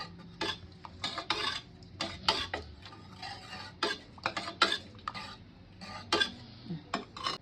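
A ladle stirs cooked dal and tomato in a pressure cooker, making a quick, irregular series of close metallic scrapes and clinks against the pot with brief pauses between bursts.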